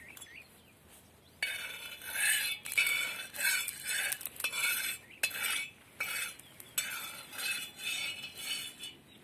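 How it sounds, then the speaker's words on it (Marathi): Oil being rubbed across a hot tava griddle with a spoon while cooking an egg dish, heard as repeated close scraping and metallic stirring strokes in uneven bursts, with no speech. "हे तेल आता तव्याला व्यवस्थित असं चोळून घ्यायचं आहे"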